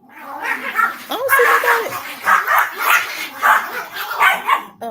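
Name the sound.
dogs barking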